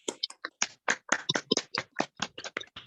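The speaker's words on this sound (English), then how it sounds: "Let us all unmute ourselves and give a thunderous round of applause" Scattered hand claps from online meeting participants at a Toastmasters club silver jubilee session, about twenty uneven claps over a few seconds, moderately quiet and unsynchronised, with no talk over them.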